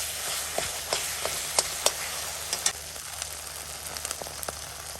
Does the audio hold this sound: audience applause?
no